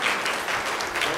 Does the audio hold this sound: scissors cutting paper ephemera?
no